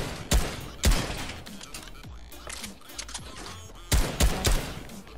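Modified infantry rifle firing in a video game, sharp loud shots in quick pairs and short bursts with gaps of quieter game noise between them.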